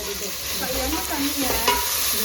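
Onions frying in oil with salt for chicken biryani, a dense continuous close-up sizzle with soft stirring scrapes, steady and fairly loud with no talk.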